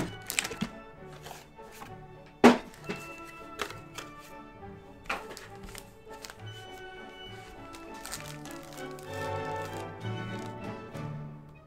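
Unboxing a Logitech K380 for Mac keyboard, with scattered taps, thunks and cardboard handling knocks, one sharp loud knock early, continuing as busier rustling and clatter.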